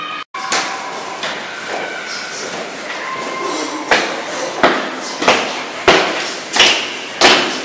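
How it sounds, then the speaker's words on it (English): Soldiers of Oliver Cromwell bang on a house door in a staged history scene: six loud, evenly spaced knocks close by, following a stretch of softer background sound. "The soldiers of Oliver Cromwell marched up to this house and banged on the door."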